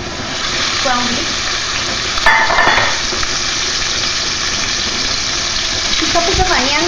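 Ground beef sizzles in olive oil in a pan for Chilean empanadas: a steady, broad hiss that runs the whole time, with a brief louder spatter partway through and faint voices underneath.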